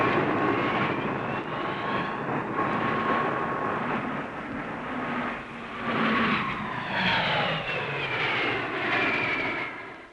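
Propeller aircraft of an RAF aerobatic display team from the 1960s fly low in formation, their engines droning continuously and loud, the pitch sweeping up and down as the planes pass overhead, with no voices.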